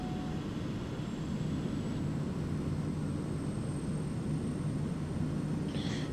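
Light bush aircraft in Microsoft Flight Simulator on final approach, a steady droning engine and propeller hum with broadband noise, continuous and even throughout.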